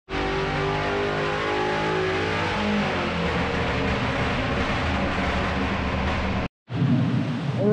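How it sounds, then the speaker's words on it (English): A Holden Commodore VE SS Ute engine on a dyno holds a loud, sustained high rev, pitch climbing slightly, then cuts out abruptly before roaring back. "we will get it on the dyno, show you a run"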